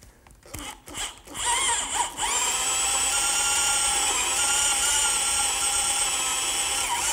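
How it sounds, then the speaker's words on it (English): A power drill counterbores holes in wood for washers and nuts on a garden swing frame, with a few short bursts and knocks before a steady high-pitched whine runs for about five seconds, close and loud, without talk. "Wherever possible, I'm going to counterbore for the washer and the nut."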